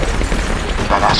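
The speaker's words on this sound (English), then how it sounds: "That asshole's shooting at me." Rapid gunfire in SOCOM 4: U.S. Navy SEALs, a loud, dense burst of shots and booms packed into a brief moment of combat.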